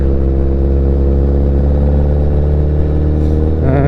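A motorcycle engine drones loudly and steadily after a shift up into second gear, holding a constant pitch before a rising rev in the final half second, close to the rider.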